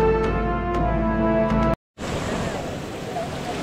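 A steady droning tone gives way, after a brief silent cut, to the loud, continuous broadband roar of the fierce, swollen Kalu river rushing past close by.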